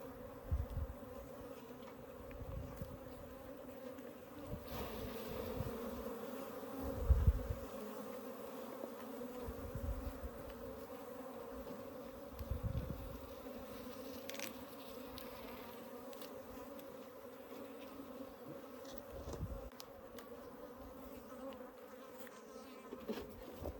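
Honeybees drone steadily around a hive built inside an opened water meter box, a low, continuous hum with occasional closer buzzes and soft handling knocks.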